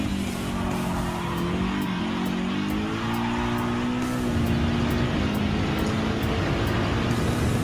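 A Ford Mustang GT '15 in Gran Turismo 7 at WeatherTech Raceway drones at sustained high revs, the engine pitch rising and dipping through gear changes in one continuous loud run.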